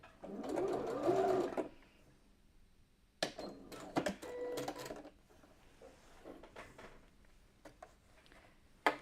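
A sewing machine stitches a Tony shirt in short bursts of whirring and clattering, with pauses and small clicks between runs, close and moderately quiet.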